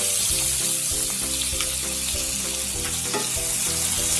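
Onions and tomatoes fry in a pan for potato curry, giving a steady, dense sizzle close up with faint stirring scrapes and no talking.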